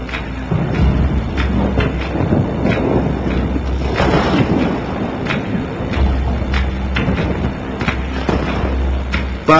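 A powerful tropical thunderstorm in northern Australia: continuous loud rumbling and crackling with heavy wind-like roar and repeated thuds of thunder, close and dense throughout, no speech.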